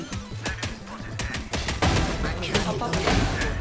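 Rapid bursts of gunfire from a Valorant match, one shot after another and close up, layered with thuds and impacts. The shooting grows denser and louder in the second half, with excited voices talking over it.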